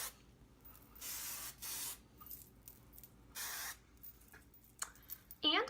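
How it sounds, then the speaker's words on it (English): Big Sexy Spray and Play hairspray is misted lightly over hair in several short hissing bursts of about a second each, close and clear, separated by brief pauses. "I just go back in with the Spray and Play by Big Sexy and just lightly spray all over."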